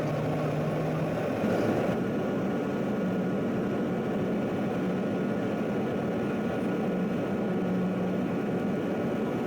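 A TAAG Q400 turboprop airliner touching down on a runway, a steady loud engine and propeller roar with broad rushing noise filling the whole span, no voices.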